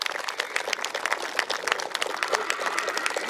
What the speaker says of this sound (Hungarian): Tapsot nekik!